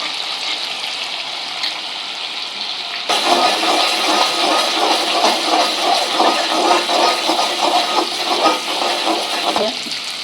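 A steady hiss is followed by a louder rush of ground masala mixed with water poured into a hot pan for fish curry, bubbling and sizzling continuously.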